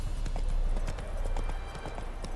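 A horse's hooves clip-clop in The Witcher 3 video game, a brisk, regular series of hollow knocks close by, with faint game ambience beneath and no one speaking.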